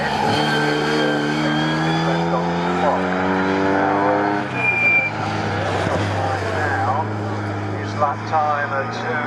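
Historic pre-1963 and 1950s racing cars roar past on the Snetterton circuit, engines rising and falling in pitch as the leaders come by, with a commentator talking over the loud engine noise.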